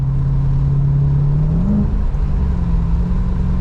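A V8-swapped Lexus IS300 on new adjustable coilovers drives along steadily, its engine a loud low droning hum that rises slightly in pitch then settles, heard from inside the car with no talking.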